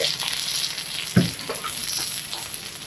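Capsicum frying in oil in a pan during outdoor caravan cooking, a soft steady sizzle with one brief louder stir or clatter partway through and no talking.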